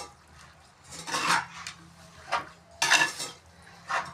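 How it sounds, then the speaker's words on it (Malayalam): Chicken curry is stirred in a clay pot with a spoon, producing several close scraping and clinking strokes at an uneven rhythm over a quiet background, with no talking. "നന്നായി ഇളക്കി."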